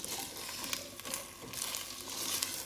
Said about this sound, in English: We're gonna give this a mix.